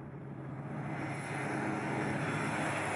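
A Cessna plane's engine droning steadily in flight over Dubai, a constant, full cabin hum that swells slightly louder toward the end with no talk.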